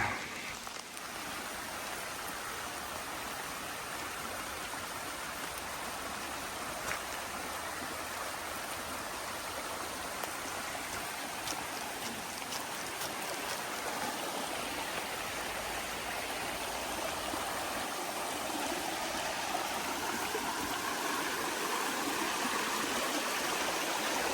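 A river runs beside a hiking trail on the Appalachian Trail in Connecticut during rain, giving a steady, broad wash of flowing water and rainfall that lasts the whole stretch, with no talk.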